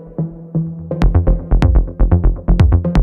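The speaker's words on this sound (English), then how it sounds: "what you're hearing now is a sound that I sampled from the Elektron RYTM." A bass line sampled from an Elektron Analog Rytm drum machine plays alone: punchy low notes with sharp clicky attacks repeat in a steady, syncopated groove.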